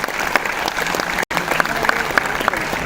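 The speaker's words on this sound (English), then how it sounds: "One big round of applause and a salute to entire Team ISRO." Applause from a conference audience honouring a space agency team, steady dense clapping throughout with a brief dropout near the middle.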